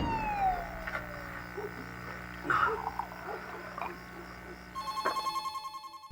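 A telephone rings in a psychological horror film. A rapid, pulsing electronic trill starts near the end, after a quiet stretch of low ambient tones.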